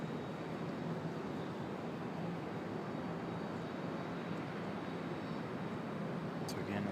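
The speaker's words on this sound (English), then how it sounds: "that last departure off to LaGuardia, Endeavor" Endeavor regional jet departing Raleigh-Durham toward LaGuardia, heard as a steady broadband jet roar that stays fairly loud and even throughout, with no voices.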